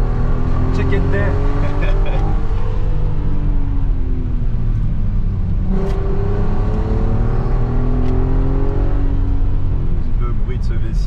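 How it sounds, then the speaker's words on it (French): An Audi TT with a V6 engine revs and drones from inside the car while driving, the pitch rising and falling loud and close, with voices talking over it. "Le bruit de ce V6."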